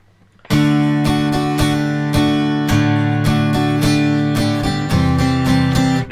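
Strummed guitar playing the third verse of a song, with bright rhythmic chords struck close and loud in steady accented strokes, shifting chords partway, with no voices.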